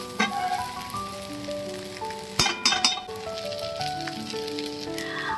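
Rice sizzles in a frying pan with a steady crackle, and a few sharp clinks of a utensil against the pan cut in near the middle.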